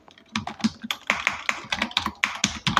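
Rapid, uneven typing on a computer keyboard while entering a small Python to-do list program, keystrokes clattering close and clear with no talking.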